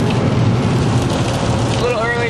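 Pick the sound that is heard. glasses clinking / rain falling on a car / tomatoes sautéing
rain falling on a car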